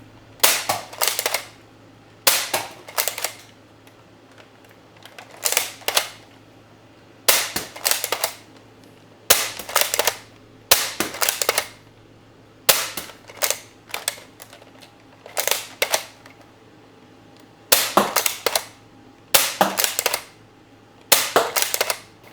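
A Nerf blaster modified with a 10lb spring fires round after round, sharp snappy cracks each followed by a brief rattle, repeating roughly every couple of seconds over a low steady hum, with no speech.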